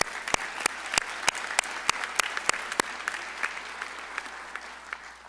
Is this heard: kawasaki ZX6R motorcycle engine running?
no